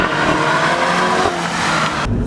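2015 Volkswagen GTI accelerating hard, loud and close, with a steady strained engine drone and prominent induction whoosh that cuts off abruptly near the end, no talking.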